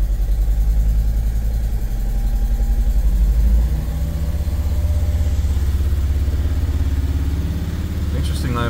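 A Mercedes Sprinter T1N diesel engine, recently repaired for a leaking injector, runs steadily at about 2000 RPM with a low, even drone and slight roughness, loud and close throughout, easing a little in pitch after a few seconds.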